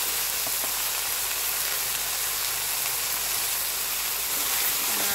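Leafy greens hiss and sizzle steadily in a hot frying pan with oil, a dense continuous crackle with no voices over it.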